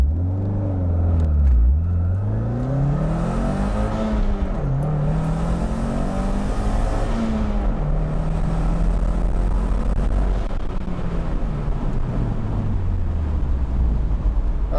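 A car launches uphill without a Sprint Booster fitted, its engine note rising steadily through the gears with audible shift dips, a loud, continuous close-up drone with no talking.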